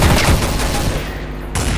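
Gunfire in the video game Counter-Strike: Source, a dense burst of rapid shots up close, breaking off briefly before resuming.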